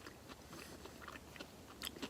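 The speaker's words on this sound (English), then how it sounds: "You hear the crunch in your ears." Someone chews a trail tortilla filled with Fritos, beans, rice and shredded pork. The crunching bites are close but faint and come in an irregular series, with a sharper crunch near the end.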